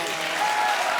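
A studio audience applauds at a comedy show, a dense burst of clapping that fills the whole brief moment.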